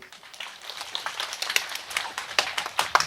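An audience claps in a loose, irregular patter of sharp hand claps, close and moderately loud, with no voices.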